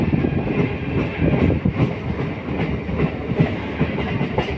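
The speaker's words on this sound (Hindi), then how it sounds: "ट्रेन जो है धीमे धीमे चल रही है।" Steady rumble and rhythmic clickety-clack of wheels heard from inside a passenger train creeping slowly near Sahibabad on the Delhi to Meerut route, continuous and fairly loud with no talking.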